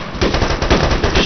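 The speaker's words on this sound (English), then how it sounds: "They're shooting a lot more." AI soldiers in the military shooter ARMA 3 firing automatic weapons: a loud, sustained stream of rapid gunshots in quick bursts with no pause, close and dense.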